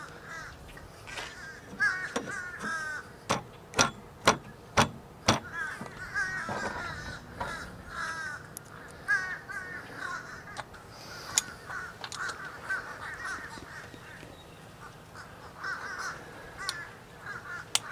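A flock of crows gathering ahead of a storm, with loud repeated caws in quick bursts and then scattered calls near and far over faint outdoor background.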